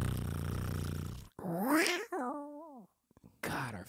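A voice imitates a cat, letting out a drawn-out, wavering meow that rises and bends in pitch. It follows a burst of louder sound and ends in a brief silence.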